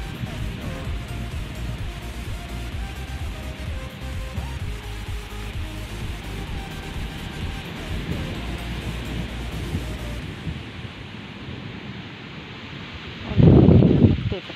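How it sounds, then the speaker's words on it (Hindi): Strong wind roars and gusts continuously, rustling leaves, then drops away before a brief loud buffeting burst near the end. "इतना जोरों से चल रहा है तूफान।"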